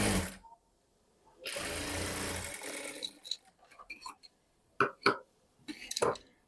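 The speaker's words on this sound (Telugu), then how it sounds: "పెట్టుకొని స్టిచ్ చేసుకోవాలి హెమ్మింగ్ వేయడానికి అనమాట" A sewing machine runs a steady whirring stitch along a blouse hem for a short stretch, close by, followed by quiet handling noises and a voice talking.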